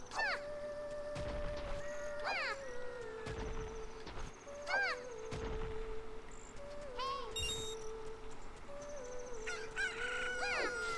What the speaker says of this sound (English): Chicken hatch from the egg you're incubating.